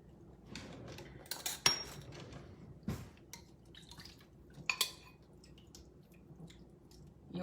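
Tofu lifted from a skillet and vegetables dropped in, heard as wet squishy drips, a few sharp clinks of utensil on pan, and quiet scraping, close and sporadic.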